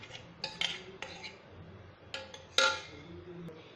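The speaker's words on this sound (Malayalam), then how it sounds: "ഇനി നമുക്കിത് നന്നായി ബീറ്റ് ചെയ്ത് കൊടുക്കാം" White chocolate mixture and whipping cream beaten together in a bowl for a coconut semolina cake, giving scattered clinks and scrapes of a utensil against the bowl, fairly faint with a few sharper knocks.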